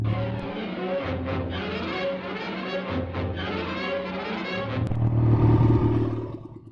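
A 1952 Triumph Thunderbird motorcycle engine runs while being ridden, a steady close rumble with shifting engine tones that swells louder toward the end before easing off.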